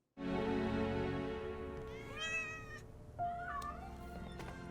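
Cats meowing in a TV drama scene, a loud sustained close meow followed by several rising and wavering cries, with no talking.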